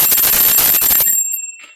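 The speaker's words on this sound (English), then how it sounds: "can we please not do the bell all the time?" A small bell is rung briskly to call a meeting to order, a bright rapid ringing that cuts off and leaves a short fading tone.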